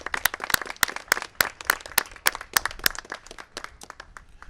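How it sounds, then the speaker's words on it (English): A small crowd claps for first responders after a hurricane, sharp irregular hand claps close by, fairly loud and continuous with no talk over them. "Let's have a round of applause for our first responders."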